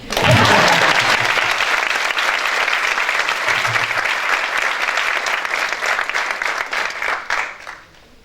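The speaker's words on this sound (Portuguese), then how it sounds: "Podem bater palmas." Audience applause at a motivational talk, a loud, sustained wall of clapping from a packed room that holds steady before fading out at the end.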